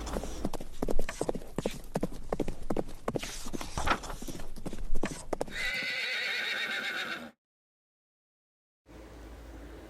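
Rapid clip-clop of horse hooves at a gallop, close and loud, then a horse whinnies; a short silence follows before hooves resume.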